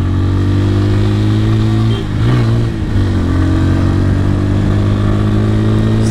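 A Bajaj Pulsar N150 motorcycle engine runs loud and close, holding a steady revving drone with a brief dip and surge in pitch midway before settling back.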